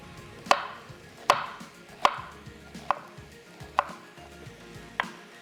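A knife chops ginger into fine julienne on a cutting board, giving about seven crisp, evenly spaced strikes close by, with no voices.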